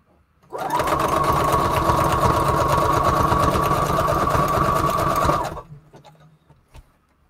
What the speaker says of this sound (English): So this is the only sewing machine I've ever had.